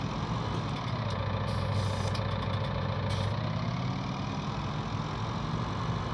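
A tractor engine idles steadily while the machine reverses, giving a continuous mid-level diesel rumble with a brief hiss partway through and no talking.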